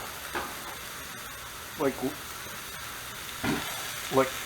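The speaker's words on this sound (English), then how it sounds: "just flip my burger, put my bun top on" Burger sliders sizzle steadily in a cast iron pan. A few scraping, clattering spatula strokes break through as the patties are moved and flipped, with a voice talking quietly in the background.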